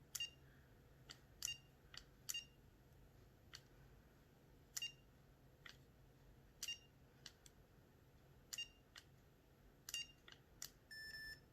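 Short, sharp electronic beeps from a remote dog training collar repeat irregularly, a dozen or so chirps over a low steady hum, quiet and close.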